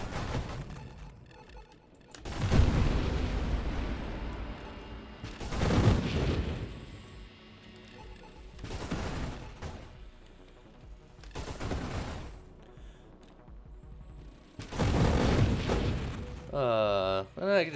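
Spaceship weapons fire and explosions in the video game Nova Drift come in several separate loud roaring bursts spaced a few seconds apart, with quieter gaps between them.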